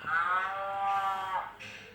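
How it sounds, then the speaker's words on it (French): A cow moos once in a long, loud, harmonic low from a Barbapapa animal pop-up book reading, a single sustained call that fills most of the moment, with no talking over it. "Waouh, elle chante très bien la vache, j'aime bien."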